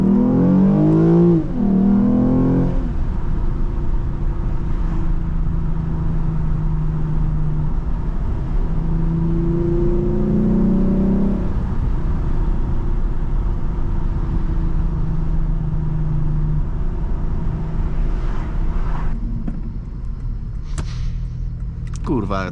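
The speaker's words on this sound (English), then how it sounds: "if I'm going 30, 40, the exhaust probably sounds really nice" A Lexus IS350 with full bolt-ons and a tune drums steadily on a late-night cruise, its exhaust rising into a couple of rev swells over constant road and cabin rumble, with talk inside the car.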